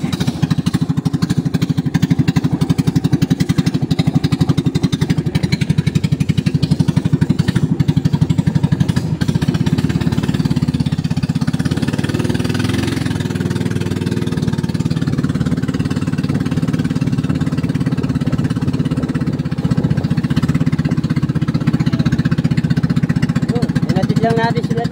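An outboard motor on a river boat runs steadily, a loud, close, low droning chug that holds throughout while people talk over it.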